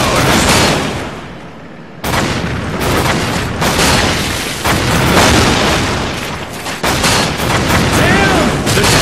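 Dense, loud barrage of explosions and rapid gunfire from a tank battle in the BattleLine: Steel Warfare video game, continuous booms layered with bursts of shots, with a short dip before the action resumes.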